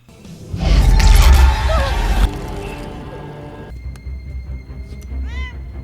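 A cat meows in the film Captain Marvel, a short high meow rising near the end after a louder burst of movie sound and rumble, with people talking over parts of it.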